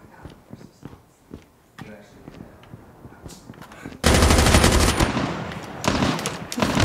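Video game gunfire: scattered single shots under excited talk, then a loud sustained burst of rapid automatic fire with continuing bursts near the end.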